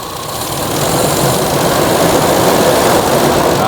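A motorcycle engine runs above 2000 rpm during carburetor tuning, giving a loud, steady, rough roar that holds without a break from start to finish.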